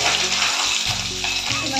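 Fish frying in oil in a pan in a home kitchen, a steady close sizzle running throughout with a low hum and brief dips.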